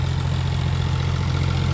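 A Massey 245 tractor idles steadily close by during potato digging, a low, even diesel throb with a constant vibrating hum and no talk over it.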